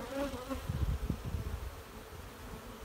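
Honeybees buzz around an opened hive during the fitting of a honey super, a soft, steady drone with a faint, close hum, no one speaking.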